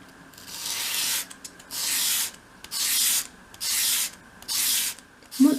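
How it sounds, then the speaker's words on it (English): Sandpaper is rubbed against a small wooden piece for a 1/12 scale miniature stepped storage unit, beveling its edges. Five even, rhythmic rasping strokes sound close up with short pauses between them and no talk. "you can finish that piece off with a piece of finer grade paper."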